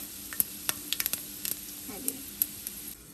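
Mustard seeds and chili tempering sizzle into koottu curry for an Onam sadya, a soft crackling bed with scattered sharp pops and spits over about three seconds, no voices.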